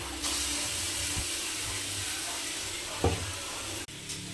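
Chicken sizzles steadily in a dry kadai with no oil, a continuous close frying hiss broken by a couple of brief stirring clinks.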